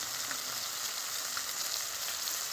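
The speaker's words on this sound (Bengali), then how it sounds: "তো মাছ ভাজা করছি" Fish fries in a pan with a steady, even sizzle and hiss, faint and unbroken throughout with no voices.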